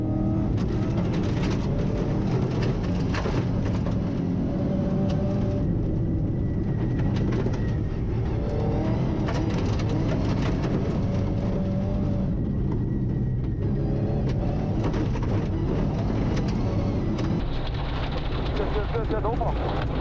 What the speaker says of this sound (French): voici des images enlevantes à bord des voitures